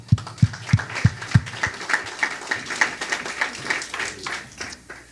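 Scattered applause from a small audience at a Michigan redistricting presentation, opening with a few heavy thumps and then settling into a light, uneven patter of claps throughout.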